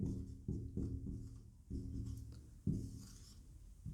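Remainders are written by hand during a calendar arithmetic lesson, heard as soft, close scratchy strokes of a pen or chalk in short bursts separated by brief pauses, quiet and with no voices.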